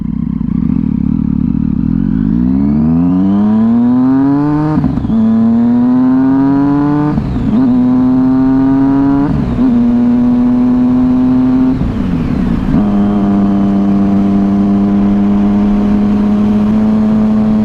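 A 2011 Triumph Street Triple 675R motorcycle engine revving loudly up close, climbing in pitch several times then settling into steady higher idles, with no talking.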